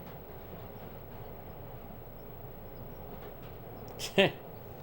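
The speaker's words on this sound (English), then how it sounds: "watch him casually riding the subway as Spider-Man" A subway train ride in Spider-Man on PS4, heard as a low steady rumble of the carriage rolling along under a quiet bed of talk, with a short brighter clatter just before the end.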